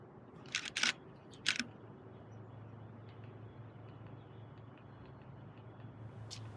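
Several sharp camera shutter clicks, a quick pair followed by another, over a quiet low hum, then a faint click near the end.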